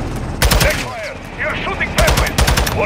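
Gunfire in Modern Warfare 2, two loud close bursts of rapid automatic shots separated by a short gap, with shouted voices and radio chatter mixed between them.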